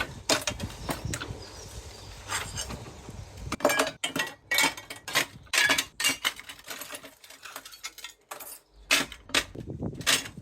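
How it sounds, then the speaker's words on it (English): Broken greenhouse pane glass being dropped into a bucket, giving a run of sharp clinks and clatters of shards knocking together, some bursts louder and denser than others, close by with no talking. "I've got myself the trusty bucket here to just put all of these pieces of glass in"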